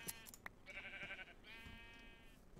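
A pair of drawn-out sheep bleats from the video game Minecraft, quiet and somewhat distant, heard over a soft background hum with no speech.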